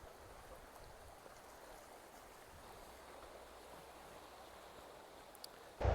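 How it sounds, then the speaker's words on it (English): Steady wind rush and moving water by the shore, recorded on an LG G5 phone, a soft, constant wash of noise with a brief louder buffet at the very end. "we're still by the water, and there's some wind and some noise in the water"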